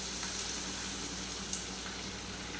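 Eggs hitting a hot pan for an omelette, a continuous close sizzle with faint crackles and a few soft clinks of utensils, no voices.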